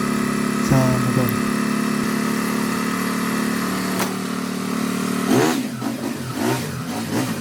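A motorcycle engine running steadily during a test after adjustment, humming near and fairly loud and then revving briefly toward the end, with voices talking over it.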